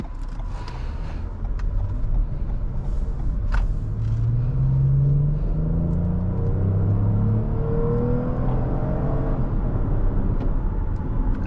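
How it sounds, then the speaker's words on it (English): A 2022 Toyota Highlander XSE SUV accelerates on an evening drive, heard from inside the cabin as a steady engine rumble and road roar whose pitch climbs gradually through the gears. "It's pretty standard acceleration for like a family SUV like this."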